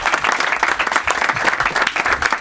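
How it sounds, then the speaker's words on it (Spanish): A studio audience at a Spanish comedy show applauds a young volunteer, a dense, lively burst of many hands clapping close and loud, with no break for the whole stretch. "Un aplauso para él, por favor"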